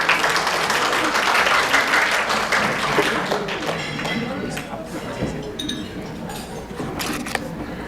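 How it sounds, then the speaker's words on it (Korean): A packed crowd at a Korean real-estate sales presentation applauds loudly, then the clapping thins and fades, leaving a few scattered claps and small clinks near the end. "여러분의 큰 박수가 필요합니다."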